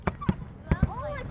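Fireworks pop over Perth on Australia Day, four sharp bangs in quick pairs heard at a distance, with a crowd murmuring around them.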